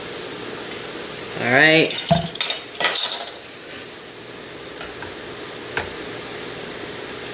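Tablespoon of vinegar splashed into a pan of sizzling low-carb Asian slaw, a sudden loud hiss and spatter with a clink of utensils, fading back to a steady low sizzle; a voice speaks briefly.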